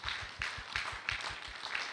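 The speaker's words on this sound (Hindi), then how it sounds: "एक जोरदार तालियां हो जाए।" An audience applauds at a leadership success talk, with scattered claps and a fairly thin, moderately distant patter lasting throughout, no voices over it.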